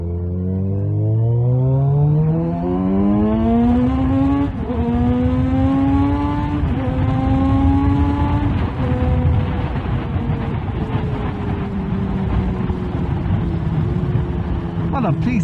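A 2020 Kawasaki Z900RS Cafe motorcycle fitted with cat-delete downpipes, accelerating hard through several gears with rising engine pitch and short breaks at each shift, loud and close for the whole stretch.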